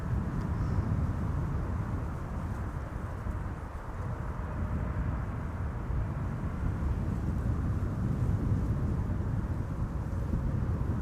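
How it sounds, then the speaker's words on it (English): A KLM Boeing 777-200 airliner arriving at Amsterdam Schiphol, heard as a steady, broad low jet roar that holds fairly constant throughout at a moderate distance, with no voices. "That is KLM flight 636 arriving from Las Vegas. It's a 777-200"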